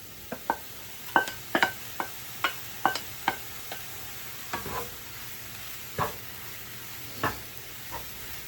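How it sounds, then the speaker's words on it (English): Chunks of eggplant are dropped into a pan of cooked-down tomato sauce, making a series of soft wet plops and stirring taps spread evenly at close range, with a low hiss beneath and nobody talking. "Now I'm gonna add in our eggplant."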